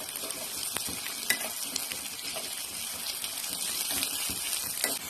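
Onions sautéing in a pan with salt and asafoetida give a steady, close sizzle with soft scraping and clinks of stirring throughout, no talking.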